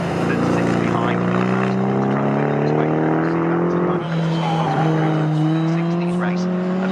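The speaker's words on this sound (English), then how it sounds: "Martin Stowe is also coming under pressure with a beautiful looking Porsche 911 that sits behind" Classic race cars, among them a Porsche 911, racing at Snetterton in a CSCC Classic K Series race, with steady engine drones rising in pitch as they pass, under continuous commentary.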